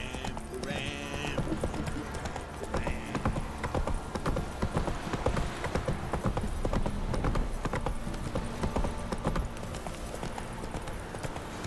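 Roach the horse gallops in The Witcher 3, a steady rhythmic clip-clop of hooves that runs throughout under faint game sound, with a brief whinny near the start.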